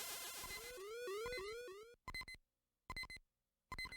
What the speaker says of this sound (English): my health has been low beeping this whole time